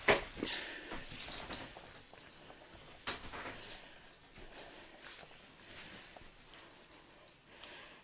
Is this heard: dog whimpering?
yes